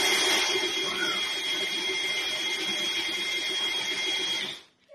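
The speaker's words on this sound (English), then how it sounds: "I got tired of turning the handle so much to make some coffee, so I got out the old DeWalt." DeWalt drill turning a hand coffee grinder, a loud, close, steady whirring grind with a buzzing mechanical edge that runs for several seconds and then stops abruptly.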